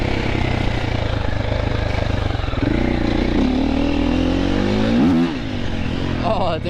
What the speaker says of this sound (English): Oh, that thing's got some grunt off the power.